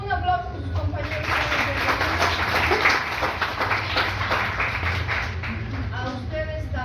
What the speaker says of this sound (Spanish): Un aplauso a sus compañeros